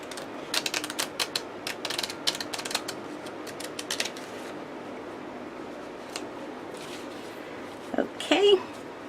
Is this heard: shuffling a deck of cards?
yes